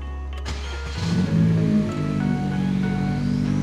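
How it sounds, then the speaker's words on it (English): A 10th generation Honda Civic engine cranks briefly and catches, then settles into a steady close idle hum with no talking. "first step, start the car"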